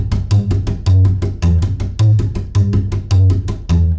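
Rockabilly upright bass in a standard slap pattern, with percussive string clicks over a steady, loud bass pulse repeating in an even rhythm, played solo with no talk.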